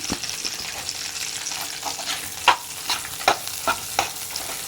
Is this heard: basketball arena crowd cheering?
no